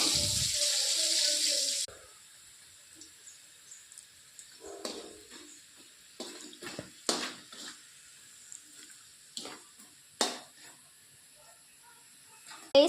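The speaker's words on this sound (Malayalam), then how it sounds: "അമ്മ ഉപ്പും മഞ്ഞപ്പൊടിയും വെള്ളത്തിൽ കലക്കി വെച്ചതാണ്. ഇതിലോട്ട് ഒഴിക്കാം." Salt and turmeric water pours in a steady, loud gush for about two seconds, then stops, leaving quiet small splashes and clinks.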